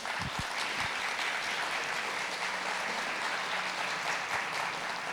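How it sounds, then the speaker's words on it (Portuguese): A church congregation applauds the founding father, broad steady clapping filling the space evenly from start to finish, fairly distant and soft. "Você pode aplaudir o nosso pai fundador."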